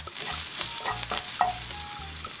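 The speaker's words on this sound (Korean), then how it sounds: "팬에 기름을 두르고 대파를 넣고 볶아주세요." Green onion stir-fries in hot oil in a pan, giving a close, continuous crackling sizzle broken by quick stirring scrapes, with no talking.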